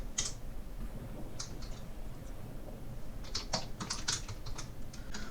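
Fingers type an SQL query on a computer keyboard, producing a steady run of light, close key clicks with irregular bursts and brief pauses, heard alone over faint room hum.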